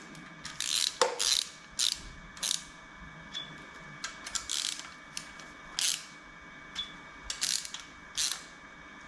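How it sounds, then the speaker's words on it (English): A ratchet tightens a bolt on a VW T4 Syncro's AAB 2.4D diesel engine, with several quick bursts of close, sharp clicking separated by short pauses, quiet overall. "So we do just a small tightening."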